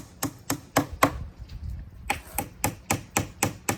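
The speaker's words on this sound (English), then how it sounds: "they'll bring their mallet that they made and tap it in the dowel" A handmade wooden mallet taps a dowel into a wooden birdhouse, a steady series of sharp knocks with a short pause partway before the evenly spaced tapping resumes, close and clear.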